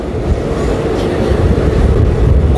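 Onboard the Ganadevta Express as it runs without stopping past platform 3 of Bally station in the early morning, a heavy, continuous rumble of wheels and carriage fills the air at steady loudness.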